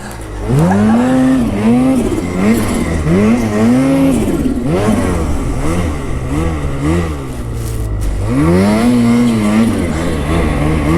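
A truck stuck in fresh snow revs its engine repeatedly, loud and close, the pitch rising and falling in surges across the whole stretch with a brief lull midway.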